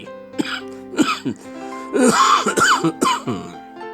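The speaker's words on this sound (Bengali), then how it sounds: "এমনি একটু কাশি হয়েছে" A cartoon character, an elderly person, coughs and clears the throat several times in short bursts, close and fairly loud, with musical background underneath.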